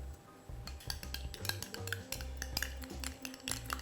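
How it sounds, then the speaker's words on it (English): Egg being whisked in a bowl before bechamel sauce is added, a quiet close rhythm of quick metal taps and scrapes against the bowl, with no talk. "So I'm whisking the egg first"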